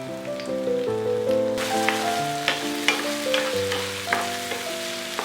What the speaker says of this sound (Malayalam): ഇപ്പം നമ്മൾ വഴറ്റാൻ നെയ്യിലേക്ക് ഇട്ട് കൊടുത്ത് ഏത്തയ്ക്ക നന്നായിട്ടൊന്ന്